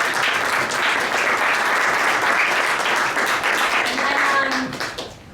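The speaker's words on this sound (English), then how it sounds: "let's give ourselves a round of applause" Attendees at a town hall on plant medicine decriminalization applaud themselves with steady, fairly loud crowd clapping that carries on evenly before tapering off at the end, with faint voices mixed in.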